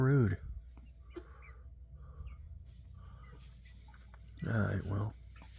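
Pet chickens cluck indoors inside a house, with a few soft clucks scattered through a quiet room and louder, close clucking squawks at the beginning and again near the end.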